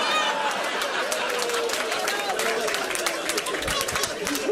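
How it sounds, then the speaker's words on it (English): An audience at a stand-up comedy show breaks into steady applause, a dense wash of clapping mixed with crowd noise and some murmuring that stays at an even level throughout. "That's so funny that gets applause."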